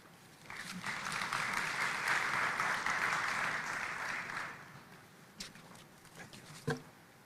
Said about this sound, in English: let us put another round of applause to the President of Comesa Business Council, James Chimwanza